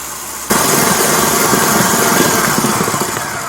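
A stand mixer's wire whisk whips egg yolks on high while hot sugar syrup streams in, a loud, constant motor drone and whirr that starts abruptly and runs evenly throughout.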